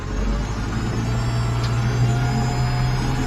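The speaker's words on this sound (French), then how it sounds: "alors j'accélère avec l'accélérateur à main" A tractor engine runs steadily with a strong low hum, brought up with the hand throttle while the power take-off is engaged at 140; loud, close and continuous with no clear rise in pitch.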